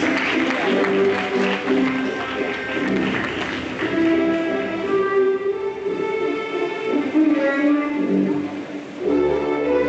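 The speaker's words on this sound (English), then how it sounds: "Please let's give him a round of applause." An audience applauds at a university convocation ceremony, a sustained round of clapping blended with tonal, music-like sounds, fairly loud and continuous across the clip.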